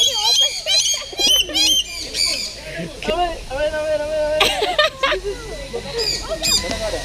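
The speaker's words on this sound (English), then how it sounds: "So the pigeons are not shy." Pigeons cooing and chirping around people in an aviary at the Taman Burung bird park in Bandung, West Java, Indonesia, with bursts of wing flutter as birds land nearby and excited voices talking over the calls.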